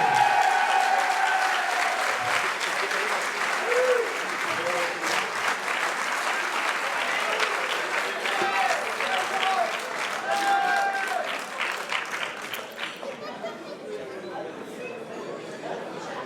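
Crowd at an award ceremony applauds a second-place finisher, sustained warm clapping from many hands under murmured chatter and a voice, gradually thinning toward the end.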